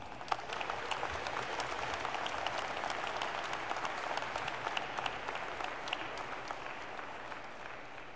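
An audience at a graduation hooding ceremony gives sustained applause, with dense, even clapping from a large crowd in a hall. It is heard from a moderate distance and continues without pause for several seconds.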